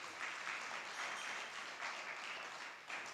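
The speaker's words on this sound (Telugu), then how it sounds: "చప్పట్లు కొట్టండి." An audience claps together throughout a church sermon gathering, a steady broad wash of applause in swelling waves, moderately loud and sustained with no talk over it.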